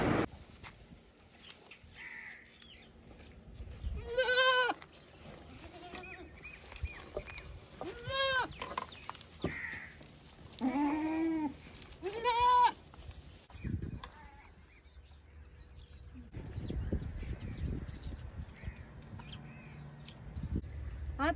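Goats tied up on a farm bleat several times in loud, wavering calls, with quieter animal sounds and rustling between them and a steady hum in the background.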